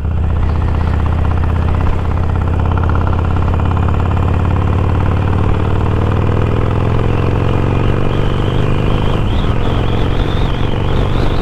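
A loud Harley-Davidson Iron 1200 motorcycle engine rumbles steadily at idle close by, its low throbbing tone shifting slightly as the revs rise and fall.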